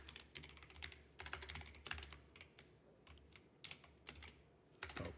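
Typing on a computer keyboard at a microcomputer, quick irregular clusters of soft close key clicks with short pauses between bursts, quiet and alone.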